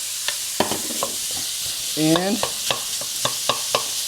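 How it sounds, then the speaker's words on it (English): Cut bacon pieces sizzle and fry steadily in a pan close up, with sharp clicks of stirring and a brief voice over the hiss. "And we're going to get that bacon frying."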